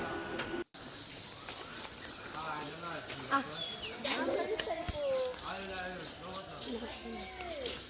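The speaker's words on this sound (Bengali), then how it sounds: "ঝিঝি পোকার অনেক শব্দ শুনতে পাচ্ছি আমরা" Crickets on a farming char in rural Bangladesh keep up a loud, continuous, pulsing shrill buzz. People, including children, talk beneath it.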